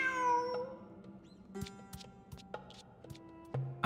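A cat in the video game Genshin Impact gives a clear, drawn-out meow at the start over soft game music, followed by quiet chimes and light plucked notes.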